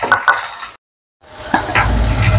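Masala spices tipped into a frying pan for a Telugu-style crab curry: a few clinks of a spoon and pan, a short silence, then a steady sizzle close by with scraping and stirring.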